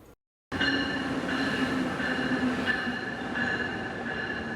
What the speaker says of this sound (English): Yes, we are on the train